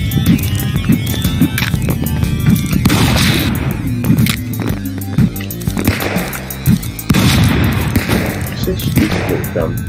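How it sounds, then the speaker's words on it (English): Gunfire from a standard gun in the video game Stick Fight: several sharp broadband shots in short bursts, loud and close, set in a dense, busy game mix. "That's a standard gun."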